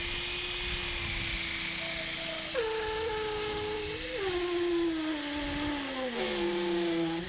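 A handheld drill turning a homemade bit cut from threaded rod bores into a wooden tiki statue, giving a steady motor whine whose pitch sags in steps as the bit pulls itself deeper into the wood.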